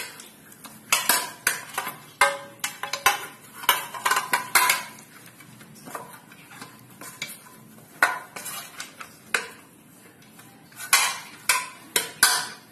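Metal kitchenware clatters and clinks in irregular bursts as a baking tray is handled and greased with oil while making coconut burfi, sharp close knocks and scrapes against a quiet background.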